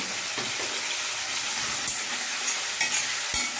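Chicken with potatoes frying in a pan for Patiala chicken, a dense close sizzle with scraping stirs and a few utensil knocks against the pan, and no talking.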